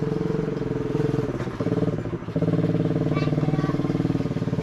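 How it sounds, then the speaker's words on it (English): A four-wheeler ATV ridden by kids drones nearby with a steady, pulsing engine note, briefly dipping and then picking back up, close and fairly loud with no talk over it. "Kids riding four-wheeler."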